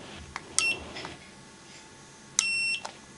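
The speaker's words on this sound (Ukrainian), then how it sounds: "Оце режим перевірки проводки, не знаю, він тут і пищить на от мінусовий кабель." An ANENG ST212 clamp meter in wiring test mode gives two short electronic beeps about two seconds apart, each a steady, close, clear tone over quiet background.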